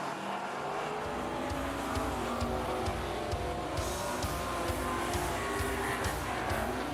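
Race cars lapping Rockhampton Speedway during an AMCA night meeting, engines roaring continuously with a dense mid-distance drone and repeated pulses as cars pass, no voices over it.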